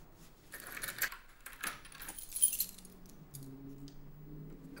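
Keys jangling and clinking in short bursts, small metallic chinks scattered over a few seconds, quiet and close, followed by a faint low hum near the end.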